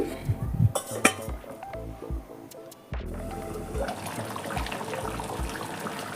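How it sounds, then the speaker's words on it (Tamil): Metal pot of country chicken curry, with clanks and clinks of utensils and a lid set down with a sharp knock midway, followed by a steady bubbling, running-water-like hiss, close by. "இப்போ மூடி வச்சிடலாம் ஒரு கொதி வரட்டும்"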